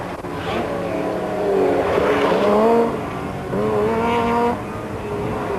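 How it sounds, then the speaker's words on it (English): A Cosworth rally car on a winter rally stage powers out of a hairpin toward a figure-of-eight loop, its engine loud and close, revving hard in two rising bursts with a brief lift between. "putting the power down, the car snaking as it goes off onto the figure of 8 loop"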